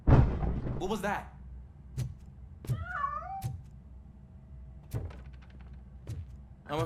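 Cat meowing in the video game RoboCop: Rogue City, a couple of short plaintive meows set among sharp clanks and thuds in a quiet space.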